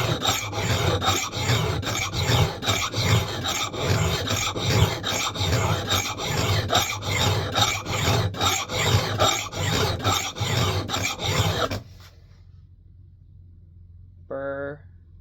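Hand file rasping along the edge of an axe head while sharpening, a steady run of rhythmic back-and-forth strokes, close and loud, stopping near the end, followed by a brief voice.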